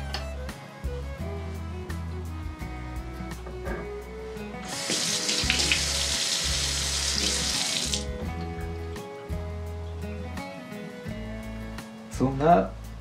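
A sushi knife and whetstone are rinsed under running water from a tap, giving a steady broadband hiss for about three seconds mid-clip, with quiet knocks and scraping around it.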